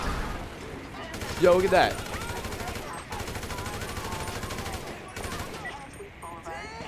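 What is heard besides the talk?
gunshots with flaming bullets cheat in video game GTA 5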